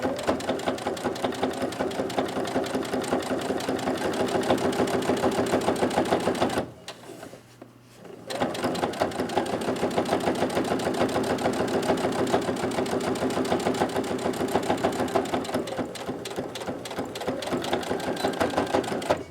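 Sewing machine back stitching a hem along the inner edge of a pleated fabric face mask, its rapid steady needle chatter running loud and close, cutting out for about a second midway before resuming at the same pace.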